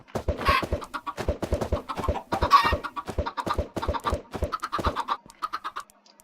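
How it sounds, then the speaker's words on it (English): Repeated clucks and squawks of Minecraft chickens in quick, uneven bursts, fairly close and clear, with a brief higher cackle midway. "I'm getting some chickens going in here."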